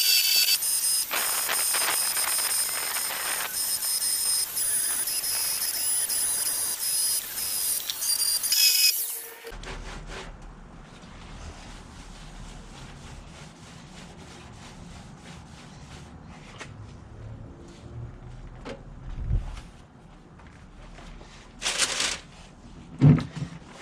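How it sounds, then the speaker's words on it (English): A finger sander works high spots on a Datsun 510 body, a loud buzzing grind for about nine seconds that cuts off abruptly, leaving quiet shop room tone with a few scattered clicks and knocks. "we'll go ahead and use the finger sander to take off these high spots here"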